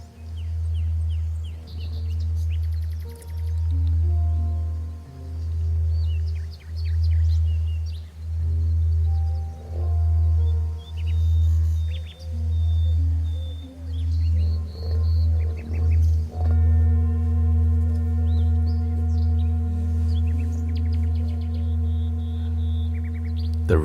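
A singing bowl rings in a meditation class with a deep tuned hum that swells and fades in repeated rhythmic pulses, then settles into a sustained bright ringing tone with layered overtones lingering near.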